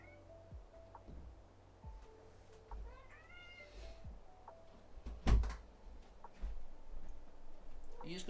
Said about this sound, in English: Are you just gonna meow at me for the rest of the stream?